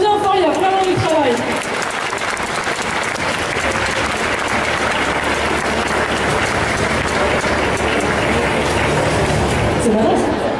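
Loud, sustained applause from a festival audience cheering cosplay contestants at an indoor competition, continuous and dense throughout with a crowd roar and a voice rising briefly at the start.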